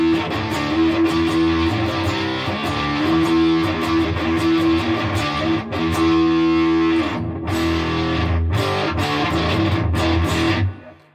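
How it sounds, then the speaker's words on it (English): Electric guitar played through a Redbeard Honey Badger octave fuzz pedal with only the fuzz engaged gives thick, saturated sustained chords and riffs, loud and close, ending with a few choppy stabs before cutting off. "Engaging the fuzz side only."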